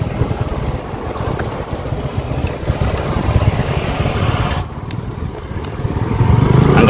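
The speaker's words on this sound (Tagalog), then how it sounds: "Ang gamit namin ngayon ay motor muna dahil ganito po yung daan" A motorcycle travels a rough road, its engine a low, steady rumble under heavy wind buffeting, close and continuous, with a brief dip and then a rising surge near the end.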